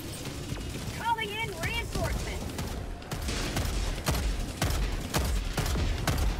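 Rapid gunfire bursts from a squad battle in the video game Helldivers 2, repeated sharp shots and volleys over a dense background of combat noise, with brief tonal whirring effects early on and someone talking over the action.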